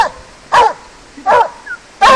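A dog barks three times in sharp, evenly spaced bursts, loud and close, with brief quiet gaps between them.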